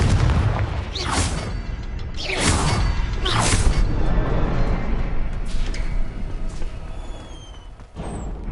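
Confringo blasting curse explosions in Hogwarts Legacy, three loud booming blasts with whooshing bursts in quick succession, followed by a rumbling tail and a few lighter pops.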